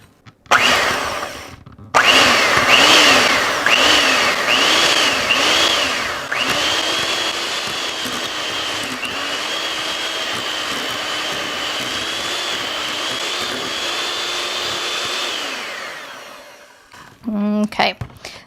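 A handheld electric mixer beats a stiff no-bake strawberry cheesecake mixture in a bowl, its motor whining loudly and rising and falling in pitch at first before settling into a long steady drone, then cutting out near the end.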